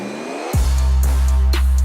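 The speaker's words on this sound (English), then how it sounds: "Start your engine." A car engine cranks and catches, then settles into a loud, steady rev with a couple of throttle blips, used as a sound effect opening a Bosch podcast.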